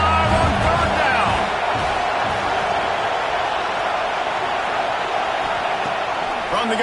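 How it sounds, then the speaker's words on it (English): Ohio State Buckeyes football crowd roaring on third down against Oklahoma, a dense sustained stadium cheer that stays loud throughout while a commentator talks over it. "The Buckeye crowd alive on 3rd down."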